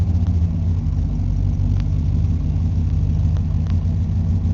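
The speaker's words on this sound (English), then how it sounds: "the engine I automatically can sense that it's running smoother" Well-worn 1994 Ford F150 V8 with over 200,000 miles idling after new spark plugs, a steady low rumbling drone, close and even, with no talking.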